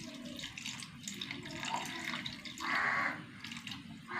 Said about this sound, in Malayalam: ഇനി ആവശ്യത്തിന് പുളിവെള്ളം ഒഴിച്ച് കൊടുക്കാം കേട്ടോ.